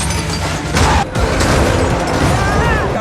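Booming explosions and crashing debris fill an action movie car chase scene, a loud, dense, continuous rumble with a brief dropout before the blasts carry on at full intensity.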